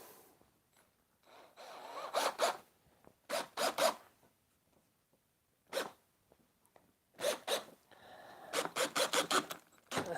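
Screws driven into the back of wooden shelf brackets with a drill, several short whirring bursts in quick clusters separated by quiet pauses, close and fairly loud.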